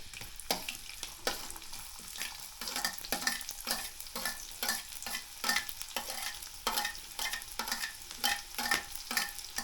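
Rice is tipped into a sizzling cooking pan, then stirred with frequent scraping strokes and soft clatters over a steady frying hiss, close and without talk.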